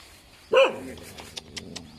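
A single sharp dog bark rings out close and loud outdoors, followed by a few faint yips and soft rustles.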